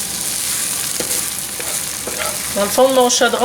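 Onions sizzling in the bottom of a pot for French onion soup, a steady close hiss with occasional stirring scrapes and a few clinks of the spoon toward the end, no talking.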